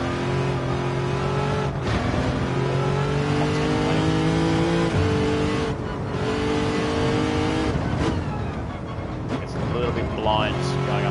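A touring car in a racing video game roars at high revs, its engine note climbing through the gears and dropping under braking, loud and steady throughout while someone talks over it.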